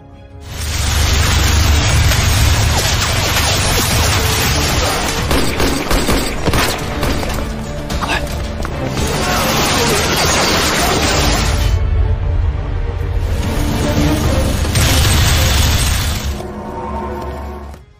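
Loud, dense bursts of rapid gunfire with booming impacts, broken by brief lulls, in a busy cinematic mix.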